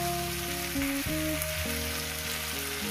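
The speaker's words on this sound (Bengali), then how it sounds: "শুধু সবজিটা কিন্তু আমি ভেজেই যাচ্ছি" Okra frying in a pan gives a steady, close sizzle throughout, with sustained melodic tones running underneath.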